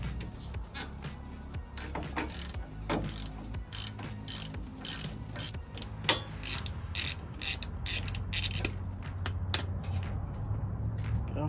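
Ratchet wrench loosening sway bar link nuts (16 mm and 15 mm) on a 1997-2003 Ford F-150, rapid clicking ratchet strokes in repeated bursts, close and fairly quiet, with some rustling and no talk.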